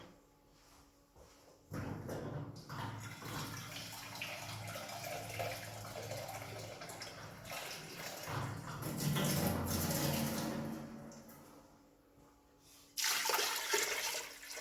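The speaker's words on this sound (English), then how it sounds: "After that, we add some water." Water being added from a tap to a pot of beef stew, a steady rushing pour that starts abruptly, swells, pauses briefly and resumes, close and fairly loud with no talk.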